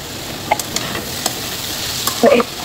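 Carrot, capsicum and beans sizzling in a pan for chicken chowmein, a steady soft hiss punctuated by a few sharp clinks and scrapes of a spatula, close up and without talk.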